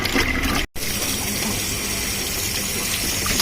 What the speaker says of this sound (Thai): ล้างให้สะอาดเลยนะครับ